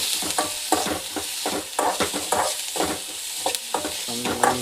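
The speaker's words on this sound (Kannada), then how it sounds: "ಟೊಮೆಟೊ ಹಾಕಿ ಇದನ್ನು ಹುರ್ಕೋದ್ರಿ. ಚೆನ್ನಾಗಿ" Tomatoes frying in a pan with a continuous sizzle, broken by regular scraping strokes of a spatula stirring them, close and clear, no voices.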